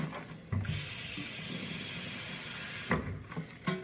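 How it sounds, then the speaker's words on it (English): Water trickles and splashes into a tube-feeding pump bag in short bursts, faint and close, with soft handling noises in between. "Let me just put a little bit of water in here."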